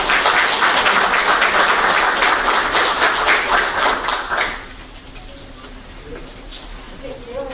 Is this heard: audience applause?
yes